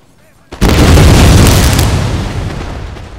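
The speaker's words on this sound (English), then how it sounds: "And they're going to throw another round of grenades" A volley of grenades bursts in a Napoleon Total War battle with the Ottomans, Britain and France, a sharp loud boom that rolls into a long fading rumble after a quiet start.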